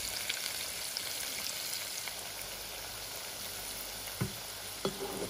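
Cauliflower frying in oil in a wok, a steady close sizzle and crackle with a couple of brief stirring clanks near the end.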